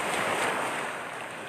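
Sea waves wash up on a beach near a camera set on the sand, a steady broad rush of surf with wind buffeting the microphone, loud and close with no voices.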